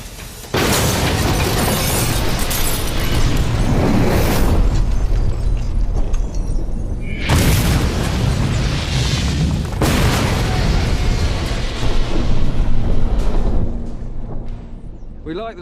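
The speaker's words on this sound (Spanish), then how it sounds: "Lo ha destrozado por completo y la explosión no ha sido muy grande." A homemade Lewis bomb explodes inside a modern car: a loud, sustained blast roar with a sharp sudden burst partway through and another surge of rumbling noise, continuing heavily to the end.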